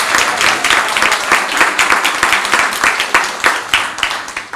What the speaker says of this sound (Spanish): También pido un aplauso.